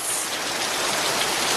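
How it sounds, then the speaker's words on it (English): Heavy rain pours down steadily in a dense, even hiss, loud and close, with no talking over it. "Look how this rain is coming down."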